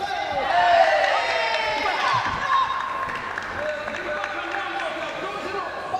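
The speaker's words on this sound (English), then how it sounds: "The Mongolian contingent cheering their man for some good work on the inside" A crowd at a World Boxing Cup Finals quarterfinal bout cheers for a Mongolian boxer, steady and moderately distant, with a commentator talking over it.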